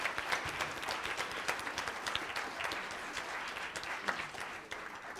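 Sustained audience applause fills a school concert hall after a middle school modern music band performance, a dense wash of many hands clapping at steady volume with no voices standing out.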